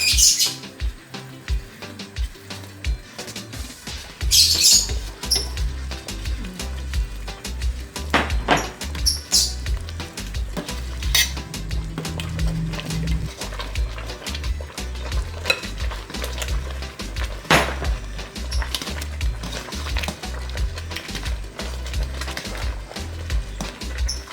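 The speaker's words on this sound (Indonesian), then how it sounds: "Okay, so she's pouring it in while she's stirring." Tapioca pearl porridge being stirred in a pot as more liquid is poured in, a steady scraping and sloshing with clinks of the utensil, close and alone, plus a few brief sharp high sounds.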